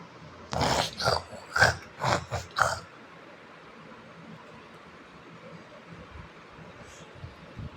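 A dog in the survival video game Last Day on Earth lets out several loud, close growling barks in a quick burst, then quiet background ambience follows.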